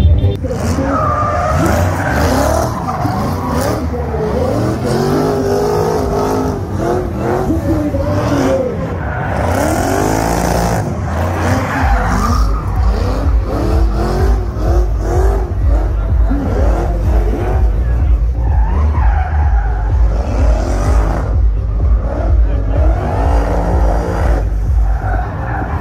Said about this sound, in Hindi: ड्रिफ्टिंग जो कि मैं आपको दिखा रहा हूँ।